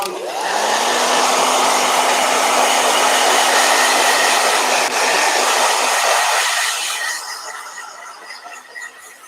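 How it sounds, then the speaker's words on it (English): A hair blow dryer runs loud and steady while a watercolor painting is dried, a continuous whooshing roar that holds for several seconds before tapering off and cutting out near the end. "Blow dryer."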